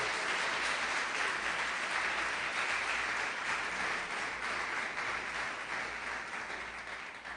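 A church congregation claps for the Lord during a service, a sustained, even roar of many hands that carries on for several seconds and eases slightly toward the end, with no speech over it.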